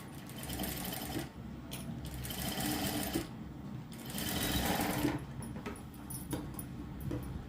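A sewing machine stitches near the neck of a prince cut blouse, running in close, loud bursts of rapid mechanical chatter separated by short pauses.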